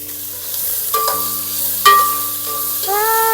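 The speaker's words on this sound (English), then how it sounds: "Now I'm going to start by sauteing the onions, garlic, and ginger with a little bit of oil. At the same time, I'm also going to fry some tofu." Onions, garlic and ginger sauteing in oil alongside frying tofu, a loud steady sizzle with occasional stirring scrapes and clinks of a utensil against the pan, close up.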